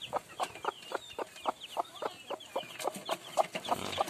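Common hens cluck in a steady, close run of short repeated calls, one with newly hatched chicks while brooding her eggs on a farm, with faint chirping woven between the clucks.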